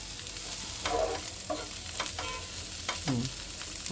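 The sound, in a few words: frying food in a pan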